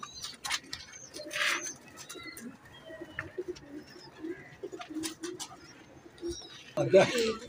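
A pair of Sialkoti pigeons coo softly at close range, low murmuring calls scattered among chirps and light rustling, with someone talking over them.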